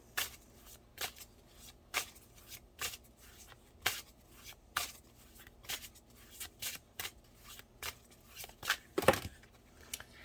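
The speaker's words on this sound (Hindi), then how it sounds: "मैं 2 कार्ड और निकालती हूँ।" Tarot cards are shuffled and drawn in a quiet room: soft, crisp riffles and slaps repeat at an irregular pace, close and fairly faint, with one louder flurry near the end.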